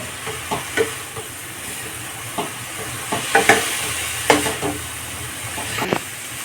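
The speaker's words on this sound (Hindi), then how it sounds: "इसको चला चला के सुखा लेंगे, बराबर चलाते रहेंगे" Stuffing stirred steadily in a pan over a high gas flame to dry it out, a constant sizzle broken by repeated spatula scrapes and knocks against the pan, close and fairly loud, no voices.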